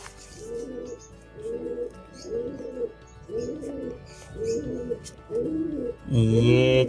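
High-flyer pigeons coo in a steady series of about six soft, rolling phrases, close by, followed by a brief louder burst at the end.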